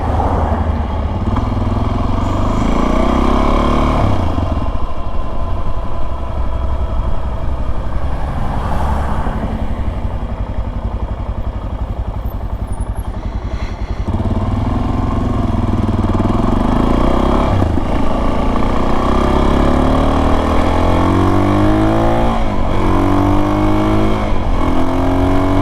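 Suzuki DRZ dirt bike fitted with an FMF PowerBomb header, a 43-tooth rear sprocket and a JD jet kit, ridden on a commute: a steady loud engine drone with wind rush and repeated rises and falls as it revs through gears.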